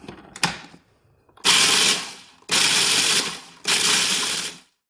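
A food processor pulses tortilla chips into coarse crumbs, with three loud bursts of about one second each separated by short pauses, after an earlier brief clatter.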